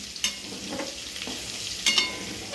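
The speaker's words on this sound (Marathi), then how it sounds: "भाजलेला लसूण थोडा होऊ देऊ" Garlic roasting in a pan, with soft sizzling and a few brief scraping stirs in quick bursts, fairly quiet and close with no talking.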